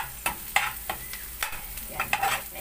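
Garlic fries in butter in a pan with a crackling sizzle and a few quick scraping stirs in close succession, near and moderately loud.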